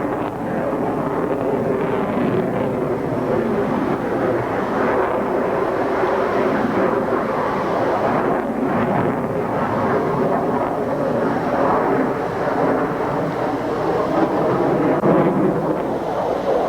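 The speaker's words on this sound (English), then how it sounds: "The MiG-29 is a fighter in the truest sense of the word." MiG-29 fighter jet flying at the 1989 Paris Air Show, a continuous loud roaring engine rumble that holds steady and broad for the whole stretch, heard from the crowd with wind buffeting.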